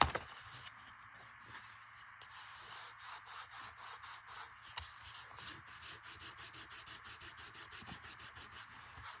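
Glued napkin paper is rubbed down by hand in a quiet, steady rhythm of soft, close scuffing strokes that grows more regular toward the end.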